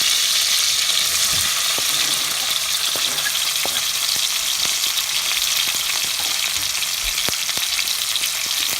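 Onions, green chili and fenugreek (methi) frying in a pan: a constant, even sizzle with sharp stirring clicks at scattered moments, heard up close and without talk.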